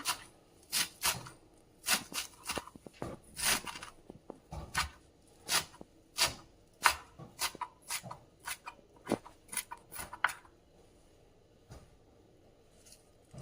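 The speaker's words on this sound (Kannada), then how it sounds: "ನಾನು ಮೊದಲಿಗೆ ಸಬ್ಬಸ್ಗಿ ಸೊಪ್ಪನ್ನು ಕಟ್ ಮಾಡ್ಕೊಳ್ತಾ ಇದ್ದೀನಿ. ಸಣ್ಣದಾಗಿ ಕಟ್ ಮಾಡ್ಕೋಬೇಕು." Knife chopping dill leaves finely on a board for uppittu, a run of close, sharp rhythmic taps at an uneven pace, loud and alone, slowing and fading toward the end.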